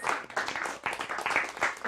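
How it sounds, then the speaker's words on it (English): An audience claps steadily for a couple of seconds, a dense patter of many hands. "let's just give a round of applause for the mystery Scandinavian in the audience"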